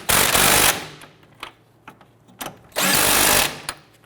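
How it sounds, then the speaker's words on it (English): A power impact tool tightening front strut bolts on a 2011-2015 Kia Sorento during a CV axle replacement, two loud rattling bursts separated by short light clanks of the tool and parts. "Let's go ahead and tighten down our strut bolts."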